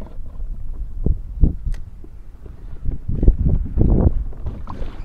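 Strong wind buffeting a kayak on inshore water during fishing, heard as low rumbling gusts that swell and fade in bursts, with some water and hull knocks, loudest toward the end.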